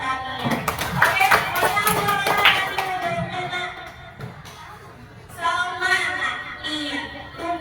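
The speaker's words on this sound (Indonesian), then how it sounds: "kasih tepuk tangan buat Tania" Classroom applause for a student in an elementary lesson, a burst of clapping from many hands mixed with children's voices, swelling then fading, with a teacher talking around it.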